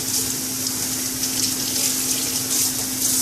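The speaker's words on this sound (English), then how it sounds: "just rinse it until that water comes out clean" Tap water running steadily into a sink while a freshly tie-dyed shirt is rinsed under it, a continuous close hiss and splash with a low steady hum beneath.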